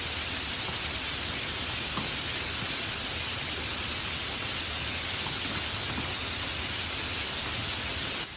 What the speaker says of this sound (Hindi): और तभी पहली बूंद गिर पड़ी। फिर एक बूंद, फिर 100,